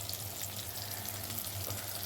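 Onion fries in a pan with a continuous, dense hiss and crackle, moderately loud and even throughout, with no voices.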